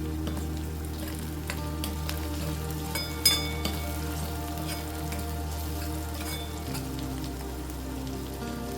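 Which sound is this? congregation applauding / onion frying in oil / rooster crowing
onion frying in oil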